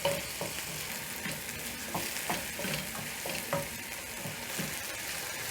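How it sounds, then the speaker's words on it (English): Tomatoes seasoned with salt and black pepper sizzle in a pan while a spoon stirs them, giving a continuous hiss broken by regular scraping strokes and small pops, close and unaccompanied by talk. "I'm going to let my tomatoes cook until mushy"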